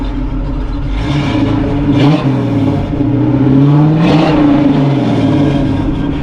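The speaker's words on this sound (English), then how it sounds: "Definitely sounds like a muscle car." A 1976 Pontiac Trans Am's V8 rumbles loudly up close, revving twice in rising, throaty surges from the tailpipes before settling back to a lumpy idle.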